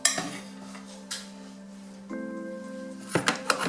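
Pieces of salted, nitrite-cured pork trotter set into a metal pot, a few sharp clanks and knocks with a ringing metallic tone lingering between them, close and clear, no talking.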